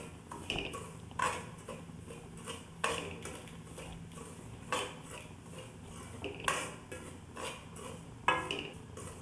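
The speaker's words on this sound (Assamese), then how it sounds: "এনেকৈ লৰাই ভাজি থাকিব" Semolina roasts in a pan while a utensil stirs it, giving repeated soft scraping and clinking strokes at an uneven rhythm. The sound is fairly quiet and close.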